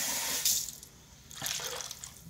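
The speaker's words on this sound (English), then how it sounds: "we're going to put some water in it because we don't want this cooking at all." Water from a tap is poured into a meatloaf pan in a home kitchen, giving a close splashing rush that drops away briefly before pouring resumes, with no voices.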